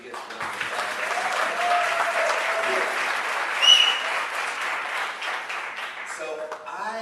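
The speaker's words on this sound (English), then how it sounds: "Can we just give them the biggest round of applause?" A conference audience at a women's empowerment event gives sustained applause for the organizers, a dense steady clapping that stays loud for about seven seconds before tapering off at the end.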